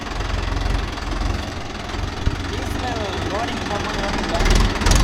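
A Mahindra Yuvo Tech Plus 585 DI tractor works a rotavator through muddy rice-paddy soil, its engine making a loud, steady, rumbling drone throughout, close by and without pauses.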